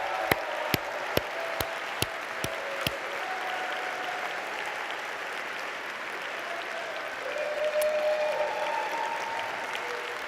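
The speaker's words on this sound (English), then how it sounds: "Please give Danita a warm and enthusiastic round of applause." Applause at a tenth-anniversary gala, a steady wash of clapping from a large room with a few distinct nearby claps at the start, continuing evenly throughout.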